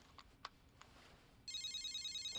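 An anime cell phone breaks into an electronic ringtone, a bright repeating trill that starts about midway after a few faint clicks and keeps going at an even level to the end.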